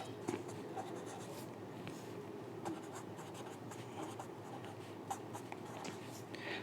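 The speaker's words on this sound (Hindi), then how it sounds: "सबसे पहले दोनों इक्वेशन लिखेंगे" Pen or pencil writing maths equations on paper, a steady scratchy stream of strokes with short pauses and taps, close and moderately loud, no talking.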